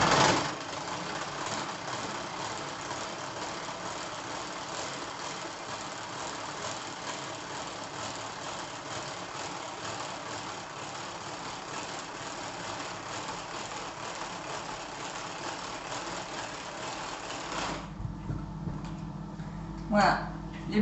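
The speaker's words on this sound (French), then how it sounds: "Voilà, les blancs sont battus, il a fallu 20-25 secondes maximum." A Tupperware hand mixer beating egg whites for a chocolate mousse, a steady, continuous whirring churn held for about seventeen seconds before it stops, followed by a few faint knocks.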